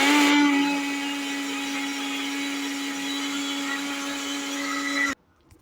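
An electric hand mixer whirs steadily as it beats batter with lemon zest for a semolina cake, a loud constant motor hum that cuts off abruptly near the end.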